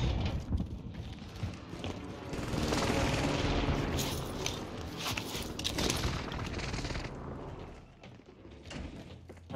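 Airstrike explosions and bursts of gunfire in the Call of Duty Warzone Operation Monarch mode, a dense, loud, sustained barrage of shots and rumbling blasts with no talk.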